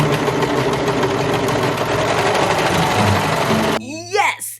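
A serger stitches through six layers of denim in a fast, continuous mechanical whir with rapid clatter, running steadily before stopping; a voice follows after it halts.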